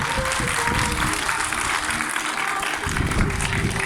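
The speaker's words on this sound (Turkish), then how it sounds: "Alkışlayalım" A crowd at a Samsunspor memorial ceremony applauds steadily, a continuous, moderately loud roar of clapping that carries on without pause, with faint voices underneath.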